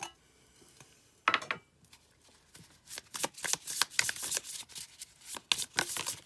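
A deck of archetype cards being shuffled and riffled, with a soft opening burst and then a dense run of quick papery flicks and snaps, close and fairly quiet, no talking.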